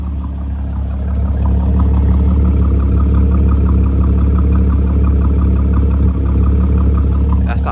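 A Mercedes-Benz C-Class (W203) with a straight-pipe exhaust idles steadily, heard from about 3 feet, a deep, throaty exhaust rumble with a faint regular pulsing throughout and no talking.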